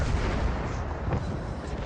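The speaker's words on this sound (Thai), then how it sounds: "แล้วก็ ยิงปืนหลัก" A warship's main guns fire in a World of Warships naval battle, a dense roaring barrage of booms filling the sound continuously at high loudness.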